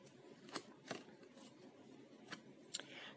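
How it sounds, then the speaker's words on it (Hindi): A tarot card is drawn from the deck, heard as a few short, close papery snaps and rustles spaced out over a quiet background, with no talking. "तो चलिए एक और कार्ड ले लेते हैं,"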